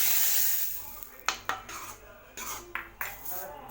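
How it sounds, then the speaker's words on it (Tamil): Ladle stirring fried fenugreek kuzhambu ingredients into a pot of Tamil curry, giving a series of sharp metallic clinks and scrapes against the vessel, with a faint sizzle in the background and no voices. "இப்போ இதை இந்த குழம்புல சேர்த்துடுறேன். சேர்த்துட்டு நல்லா ஒரு டைம் கலந்து விட்டுடலாம்."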